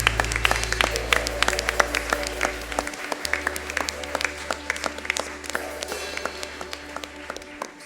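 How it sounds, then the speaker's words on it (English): A church congregation claps hands together, a sustained burst of sharp, irregular claps from many people with a low hum under it that drops partway through. "Let's give God a mighty hand clap."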